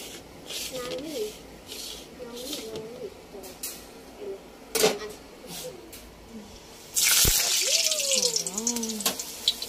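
Water hitting a hot surface in a home kitchen gives a sudden loud, hissing sizzle that starts late and keeps crackling, after quieter moments of people talking with some faint background cooing.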